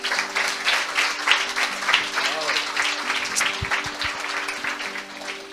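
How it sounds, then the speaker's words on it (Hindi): A church congregation breaking into applause during a sermon, dense crowd clapping that swells and then holds steady, with a low sustained musical tone and some faint voices underneath. "पहले इस वचन के लिए ताली बजाएं।"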